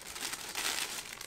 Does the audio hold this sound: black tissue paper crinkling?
yes